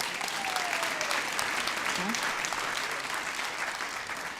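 An audience answers a question about seeing the Beatles on The Ed Sullivan Show with a broad round of clapping and some crowd murmur, moderately loud, with a brief voice or whistle-like tone surfacing.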